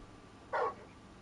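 Torgal, the large canine companion in Final Fantasy XVI, lets out a single short bark, loud and close, standing alone over a quiet background hum.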